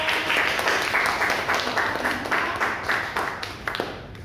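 A classroom audience claps steadily after a student group's psychology presentation, with dense, continuous applause close by that holds at an even level and eases slightly near the end.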